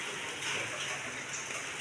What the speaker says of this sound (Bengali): এই যে বাইরে খুব বৃষ্টি হচ্ছে,